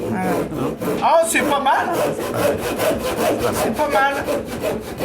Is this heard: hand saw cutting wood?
yes